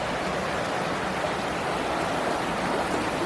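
A stream rushing at a water crossing in Neversink Gorge, New York, making a dense, steady broadband roar of flowing water, loud and continuous, with no voices.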